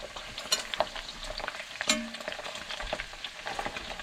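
Pig fat renders down in a pan while being stirred, giving a quiet, continuous crackling sizzle with scattered spatter pops and occasional utensil scrapes.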